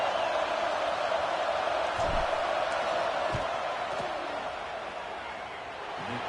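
Stadium crowd roar in a college football video game, a dense steady wash of noise as fans try to rattle the kicker before a field goal, with a few faint thumps breaking through.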